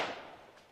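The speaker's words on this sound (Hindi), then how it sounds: "single shot fire" A single rifle shot fired during an Assam Rifles training drill, a sharp sudden crack at the very start whose echo fades over the next half second.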